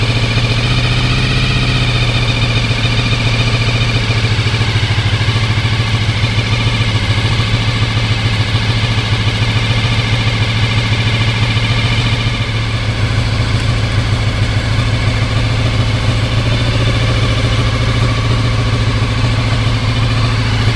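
Honda VFR 750 motorcycle engine idling during carburettor work. A steady, loud, continuous engine drone holds throughout at close range, with no talking.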